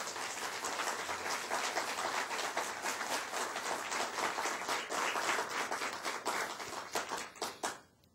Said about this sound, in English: please give these folks and the entire team, there are a lot of folks involved in this, a round of applause for the work that they've done